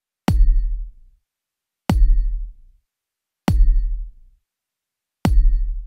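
Four deep, punchy EDM kick drums from a BandLab drum-pad kit thump on every beat, each a boomy low hit that decays quickly into silence, evenly spaced and loud with nothing else playing.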